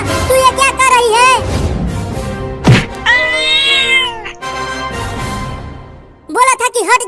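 A cartoon cat meows several times in loud, tonal bursts, with a sharp thunk midway, over background music and voices.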